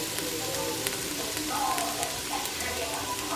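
Onions sauté in real butter inside a Ninja Foodi, producing a steady close sizzle and light crackle throughout with no talking.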